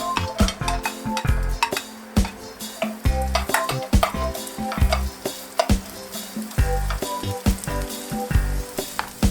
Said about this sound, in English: Get the onions frying.